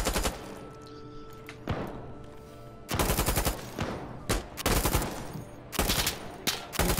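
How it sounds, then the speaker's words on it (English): Assault rifle and machine gun fire in the video game Insurgency Sandstorm: loud, close bursts of rapid shots broken by short lulls, with the gunfire surging again several times. "Assault rifles and machine guns."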